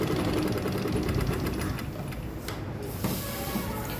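An electric sewing machine running steadily and close by while it double top-stitches a cloth purse with a pocket. The motor and needle whir rapidly and continuously, with a brief pause near the middle and no talking.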